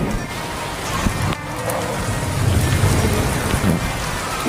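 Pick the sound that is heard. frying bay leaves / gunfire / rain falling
rain falling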